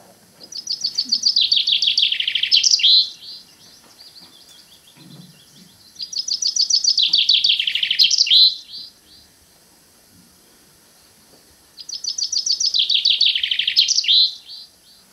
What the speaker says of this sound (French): Le pinson des arbres.